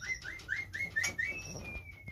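A caged bird calls in a run of rising whistled chirps followed by one long sustained whistle, fairly close and clear over low background rumble.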